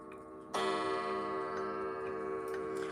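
A Howard Miller wall clock starts chiming with a bright, ringing tone that holds and rings out, with a few softer strikes layered on over a quiet room.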